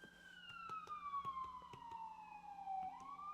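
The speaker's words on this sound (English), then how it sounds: "Ambulance not done yet." An ambulance siren passing outside, a faint distant wail sliding gradually downward in pitch with a low hum and soft clicks beneath it.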